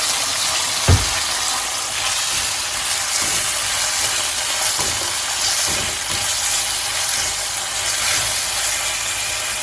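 Sliced garlic and green chilies sautéing in a pan, a constant loud hissing sizzle with a single dull knock near the start and faint stirring after.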